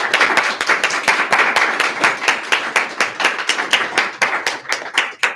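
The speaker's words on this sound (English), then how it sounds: "can we just give an applause to the panelists today?" An audience applauding panelists at a hybrid in-person and online event, with brisk, close hand claps that carry on for several seconds and taper toward the end.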